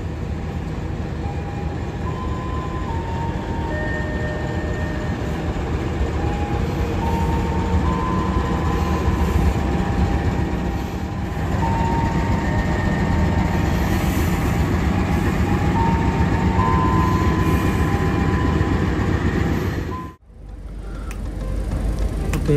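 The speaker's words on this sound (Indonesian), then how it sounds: "kereta api Mutiara Timur berangkat dari stasiun pemberangkatan awal, yaitu stasiun Surabaya Pasar Turi" A Mutiara Timur passenger train departs Surabaya Pasar Turi station, giving a loud, steady rumble of rolling wheels with high tonal squeals. The noise holds close and constant for about twenty seconds, then cuts off abruptly.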